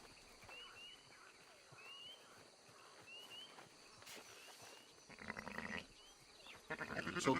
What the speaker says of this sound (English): I was talking to the sheep